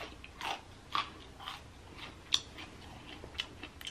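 Close, wet chewing and biting on chicken legs during an eating challenge, with soft crunchy bites recurring every half second or so and no talking.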